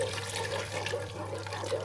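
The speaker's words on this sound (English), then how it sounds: "into that we're just going to add some boiling water" Boiling water poured into chicken pot pie stock, a steady liquid pour running throughout at close range with a low hum underneath and no voices.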